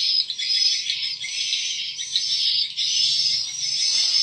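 Dense, continuous high-pitched chirping of many swiftlets calling together inside a swiftlet house with hexagonal nest walls, steady and close with no talking.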